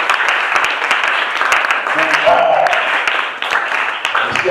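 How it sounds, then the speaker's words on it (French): Church congregation clapping in praise of the Lord at a local church service, a dense, steady wash of applause filling the room, with voices mixed in beneath the clapping. "On acclame le Seigneur."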